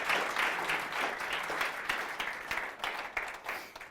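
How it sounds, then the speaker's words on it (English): Applause from a lecture audience after a Shakespeare scene reading, a steady wash of many hands clapping for about four seconds at moderate volume, thinning slightly toward the end. "Give him a round of applause"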